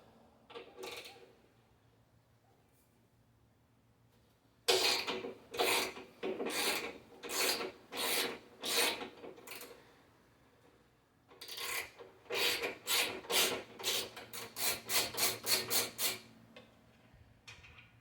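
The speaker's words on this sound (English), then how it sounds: "6mm Allen wrench. So let's go ahead and take the fender off." A 6mm Allen wrench works the bolts while the front fender comes off a 2023 Indian Challenger motorcycle, making close, rhythmic rasping clicks in two long runs with a quiet gap between them.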